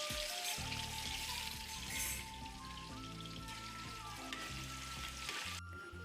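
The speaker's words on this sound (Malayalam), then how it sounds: "ചൂടായ എണ്ണയിലേക്ക് ഇട്ട് വറുത്ത് കോരി." Thin slices of raw plantain sizzle and crackle steadily in hot oil for Onam chips, a soft continuous bubbling under background music.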